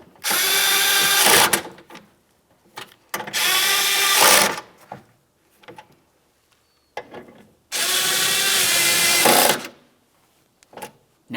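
A power drill drives mounting bolts into the door of a 2005-2010 Dodge Dakota during a front window regulator replacement. Three long, loud whirring bursts are separated by short pauses with small clicks and handling noises, all close up.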